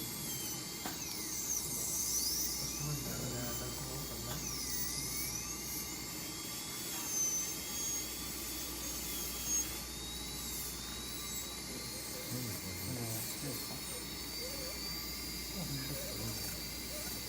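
A high-speed dental drill with a burr cuts tooth during a class 5 cavity preparation, whining thinly and continuously while a person speaks over it.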